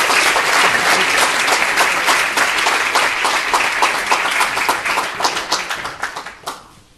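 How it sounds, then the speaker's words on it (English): Sustained audience applause fills a room after a political question-time session, loud, dense clapping that holds steady for several seconds before thinning out into scattered claps and fading at the end. "Please join me in a round of applause for Oren Winston, please."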